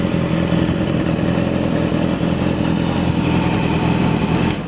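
A Yamaha YZF R6 sport motorcycle engine revs loud and close through its muffler with a steady, buzzing roar, heard on its own without voices.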